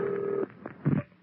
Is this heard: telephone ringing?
yes